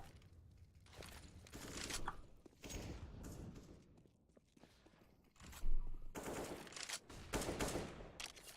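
Gunfire in CS:GO from a competitive esports match comes as repeated bursts of rifle shots and scattered single cracks, varying in loudness across the stretch, with a few footsteps mixed in.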